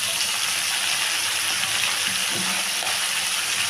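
Chicken sizzles in a pan with burnt spice paste in a home kitchen, a steady, fairly loud hiss of frying that holds even throughout with no talking.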